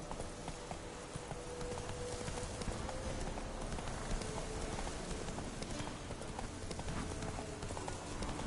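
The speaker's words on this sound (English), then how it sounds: "Come on, Roach" Hooves of a horse galloping in The Witcher 3 video game, a steady rapid clip-clop that runs continuously at close range alongside in-game ambience.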